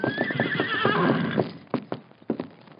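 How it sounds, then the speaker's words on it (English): A horse gives a loud, quavering whinny lasting over a second, followed by several sharp hoof clip-clops close by. "He called the horse Silver."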